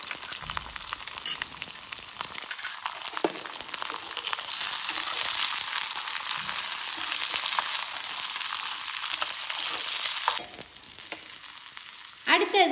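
Dried red chillies, green chillies and onions fry in a pan for murungai keerai thovayal, giving a steady, loud sizzle with crackling and occasional stirring scrapes, briefly dipping near the end before flaring up again.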